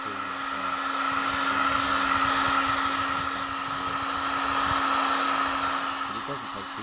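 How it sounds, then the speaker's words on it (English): A heat gun blows on the plastic bumper trim of a Vivaro, Trafic or Primastar van, a steady, close whirring rush of air with a constant tonal hum that swells gently and never stops. "It depends what sort of heat gun you've got."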